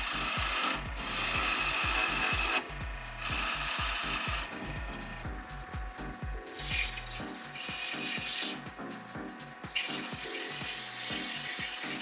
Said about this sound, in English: So I have to kind of sand my way to a good finish.